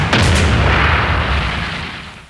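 The German Paris supergun fires, a huge artillery blast of 1918 Paris: one loud, sharp report that rolls into a long, broad rumble, fading slowly over two seconds with no voices.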